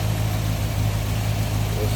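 A 1957 Ford Fairlane 500 Skyliner's 312 V8 idles close by as a steady, even low rumble with no revving, a smooth continuous drone throughout.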